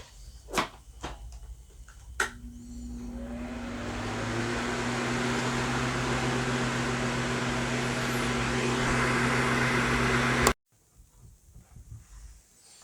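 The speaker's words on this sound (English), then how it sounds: "So I will air dry this with my fan," An electric fan switches on and blows steadily to air-dry acrylic paint, a close, even whooshing hum with a low tonal drone that runs for several seconds before cutting off abruptly, preceded by a few knocks and handling sounds.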